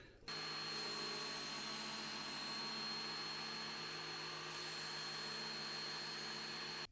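Belt grinder sharpening a pocket knife blade, a loud steady whine of abrasive belt on steel running continuously for several seconds, close by with no talk.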